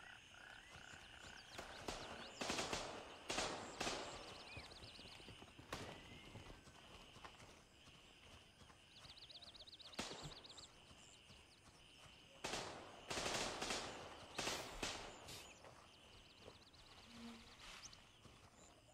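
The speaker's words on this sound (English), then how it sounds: "So there might be another faction here with the gunfire that's going on." In the video game Gray Zone Warfare, scattered bursts of gunfire, some in short rapid volleys, crackle at a moderate distance amid a steady background hum, with quiet gaps between the shots.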